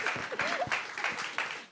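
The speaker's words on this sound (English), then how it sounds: "Let's give them a hand of applause." An audience at a business growth summit applauds panelists, with a short burst of steady clapping and a brief voice underneath.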